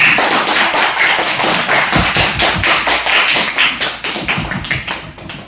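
A group bursts into dense, continuous hand clapping at close range, loud and sustained with sharp overlapping claps, thinning slightly near the end.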